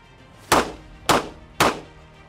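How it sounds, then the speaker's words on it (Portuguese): Three sharp gunshots fired at a target ring out at a steady, evenly spaced pace, each loud crack followed by a short decaying echo. "Os disparos foram lá no alvo."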